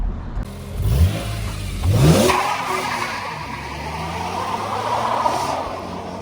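A BMW E30 engine revs and accelerates up close on a test drive after a fuse box replacement, with a rising whine and brief tire noise, then settles into a steady running drone.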